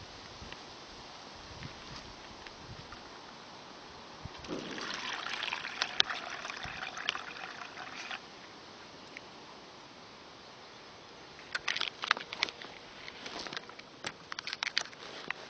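Water from a Canadian IMP military ration's sports-drink kit poured into a plastic drink bag, about 250 ml: soft trickling and splashing with a brief stronger pour in the middle and another burst near the end, fairly quiet and close.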